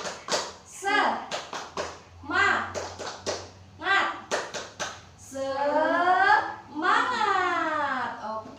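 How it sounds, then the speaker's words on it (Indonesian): Schoolchildren in a classroom doing a rhythmic spirit clap, sharp grouped hand claps alternating with the children chanting in unison, close and lively. "Coba ya, tepuk semangat."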